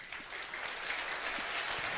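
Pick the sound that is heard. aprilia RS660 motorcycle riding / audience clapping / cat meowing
audience clapping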